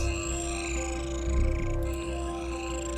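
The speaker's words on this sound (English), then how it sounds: "Lovely little just sort of lasery, birdy flybys." Steady layered electronic buzzing tones from Star Citizen with a brief swelling whoosh midway, like a synthetic zappy, lasery, birdlike flyby passing over a sustained drone.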